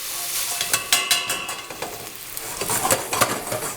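Couscous and onion brown in a pan, stirred with a wooden spoon: a close, continuous sizzle punctuated by repeated scraping and tapping strokes, with no voices.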